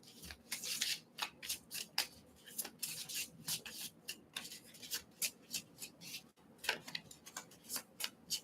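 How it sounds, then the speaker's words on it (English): A deck of cards is shuffled by hand, close and fairly quiet, as a string of quick riffling bursts and soft slaps repeats in an uneven rhythm. "I'm gonna keep shuffling until something comes out"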